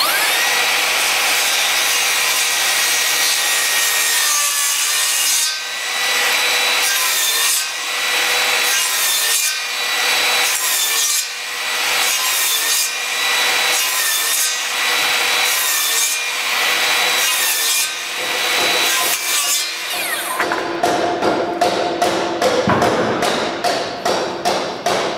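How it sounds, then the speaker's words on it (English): A power saw cuts wood for a cross beam, a loud, close grinding roar in repeated passes with brief dips between strokes, turning into rapid choppy bursts near the end. "I'm going to check my saw depth, make my cuts."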